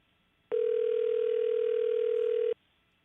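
An outgoing phone call rings with no answer: a single steady electronic ringback tone starts abruptly, holds evenly for about two seconds and stops, with near silence on either side.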